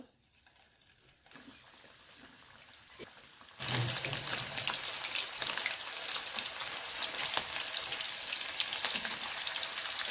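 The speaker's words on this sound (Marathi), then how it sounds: "आता आपण हे चिकनचे तुकडे जे आहेत ते तळून घेऊया मस्त" Chicken pieces dropped into hot oil in a kadhai to deep-fry for chilli chicken set off a dense, loud hissing sizzle that jumps up a few seconds in and then holds steady and close.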